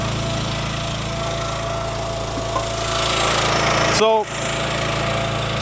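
A Wolfe Ridge DC-10C firewood disc cleaner's small engine runs steadily at mid throttle with the choke off, a loud continuous drone with a brief dip, while a voice speaks briefly over it.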